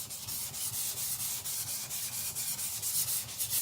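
A Victorinox Chinese cleaver being thinned on an abrasive, a continuous gritty scraping with regular back-and-forth strokes, loud and close with no talking.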